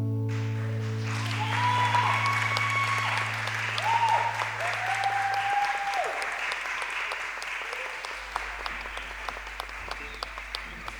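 A church congregation at a French-language Sunday service applauds steadily for several seconds, a dense wash of clapping with sustained organ or keyboard tones underneath that fade out partway through.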